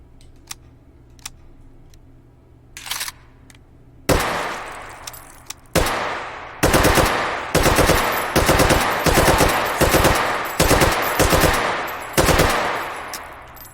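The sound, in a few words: AK-47 rifle firing in VR video game Hot Dogs, Horseshoes & Hand Grenades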